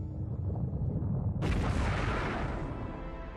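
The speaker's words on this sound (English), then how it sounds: "This is the fireball of the hot Big Bang." A deep explosion booms in as a cosmic fireball, a low rumble that suddenly bursts into a broad roaring blast partway through and then sustains and slowly fades.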